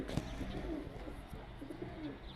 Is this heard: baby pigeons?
yes